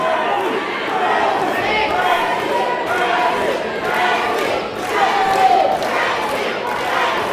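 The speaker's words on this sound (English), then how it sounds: "Looks like the crowd is saying Pandora, Pandora, Pandora." A wrestling arena crowd chants a wrestler's name in a loud, rhythmic, repeated cadence, the voices blending into a continuous roar with bursts of cheering.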